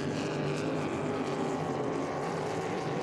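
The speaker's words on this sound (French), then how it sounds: "avant que Derek Smith fasse rugir toute la puissance du moteur" A Hydro350 hydroplane racing boat engine roars at full power at a race in St-Félicien, a steady, droning buzz heard from a distance that stays level throughout.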